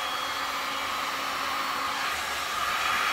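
A hair dryer blows silver tint across poured resin on a sink strainer, a steady close-up whoosh of rushing air with a faint motor hum that holds constant and swells slightly at the end, with no voices.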